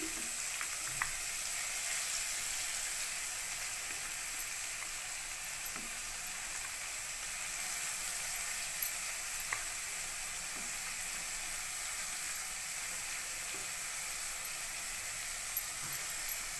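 Spinach just added to fried onions in a pan for a spinach, raw mango and moong dal curry, giving a faint, steady hiss of frying with occasional small crackles and no talking.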